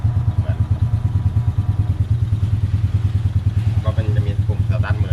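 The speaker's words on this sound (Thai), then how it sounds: "เมื่อไฟสีเขียวขึ้นแล้วครับเรากดปุ่มสตาร์ทได้เลย เหมือนมอเตอร์ไซค์เลยนะครับ" Three-wheeled samlor taxi engine running after a push-button start, with a close, steady rhythmic putter like a small motorcycle idling and a faint voice in the background.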